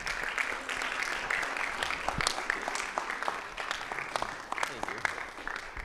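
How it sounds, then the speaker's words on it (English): At a regular council meeting, the audience gives a round of applause for two young men: a moderate room full of scattered sharp claps, with voices talking over it. "let's give these young men a round of applause."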